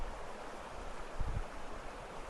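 Rushing water of Snow Creek on a ranch, a steady broadband roar of flowing creek water, close and continuous with no talk.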